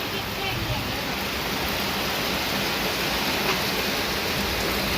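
Floodwater rushes steadily and loudly into a house nearby, a constant broadband wash like a strong flow pouring in, with no breaks.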